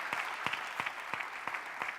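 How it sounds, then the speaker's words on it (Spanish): A church congregation at the Tabernacle of Faith applauds, steady massed clapping with regular rhythmic accents, moderately loud and with no voices over it. "If that hand of applause is for the Lord,"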